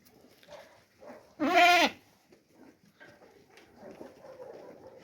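A single loud, wavering lamb bleat rises clearly above faint background murmuring and rustling.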